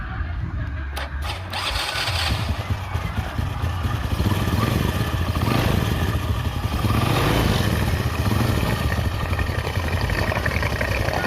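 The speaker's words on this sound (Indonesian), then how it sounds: "Itu ya suara olinya teman-teman, suara oli yang naik kayak gitu suaranya." A Honda Supra motorcycle engine runs at idle up close with a noisy clattering from the oil system, a steady dense mechanical rattle with no talking over it.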